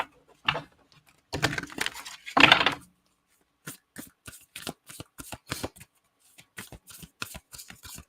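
A deck of guidance cards is shuffled nearby in several crisp riffling bursts, followed by a string of lighter, separate card taps and flicks.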